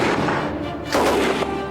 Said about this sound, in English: This is the Lewis gun.